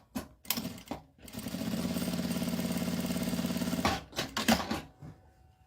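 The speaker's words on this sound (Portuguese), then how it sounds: "Eu vou só passar uma costurinha de meio pé de máquina aqui, ó, na onde tem a dobra" A sewing machine runs a short seam along the fold of folded fabric, with a few brief clicks and handling noises, then a steady rapid mechanical chatter for about two and a half seconds, then more clicks and rustling as it stops.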